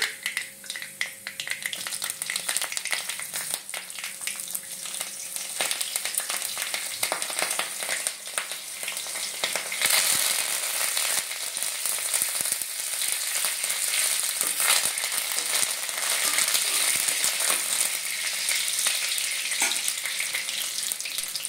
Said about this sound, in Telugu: సో పోపు దినుసులు వేయాలి. అవి చిటపట అన్నం తర్వాత పచ్చిమిర్చి, కరివేపాకు వేసుకోవాలండి.